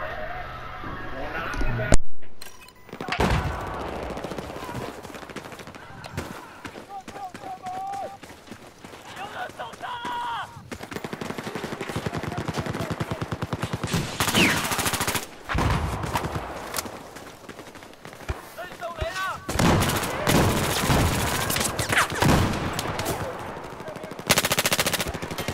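Battlefield 4 gunfire, including shots from a .50 cal sniper rifle, rattles in dense bursts and single heavy cracks amid loud battle noise, with someone talking over much of it.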